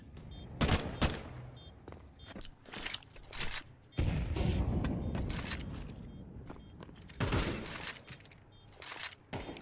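Bursts of wallbang gunfire during a Counter-Strike 2 round after the bomb plant, in a CCT Europe play-off match, with several loud clustered shot volleys and a sustained noisy stretch in the middle.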